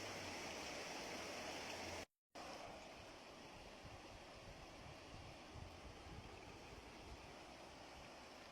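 The Pinios river in Greece flows in a steady broadband rush, constant and moderately close, with a brief dropout near the start and no voices.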